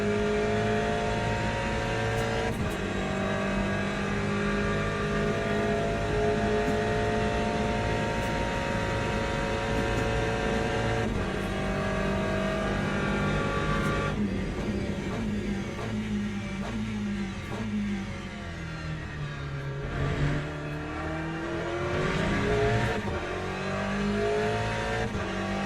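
Race cars circling Le Mans in the iRacing sim, engines droning loud and continuous with rising and falling revs as several cars pass and shift, a steady layered roar throughout with brief dips.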